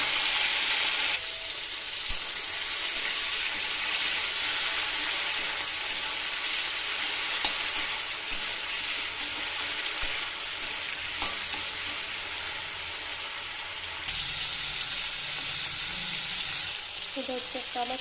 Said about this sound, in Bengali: এবার আমি চিংড়ি মাছগুলো দিয়ে ভালোভাবে ভেজে নেবো।